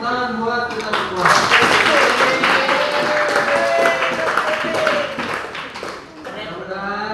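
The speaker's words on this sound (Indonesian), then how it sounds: "Oke, tepuk tangan buat kita semua." Classroom students clapping together in a dense burst of applause, mixed with overlapping voices and chatter, loud and close, easing slightly near the end.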